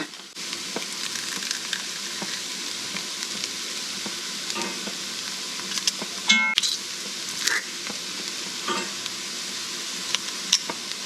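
Large garlic cloves frying in rendered bacon fat in a pot, a loud steady sizzle and crackle with intermittent stirring scrapes and clicks of a utensil, no voices.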